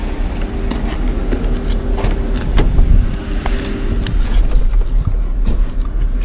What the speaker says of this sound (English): Nice S5 convertible coming in.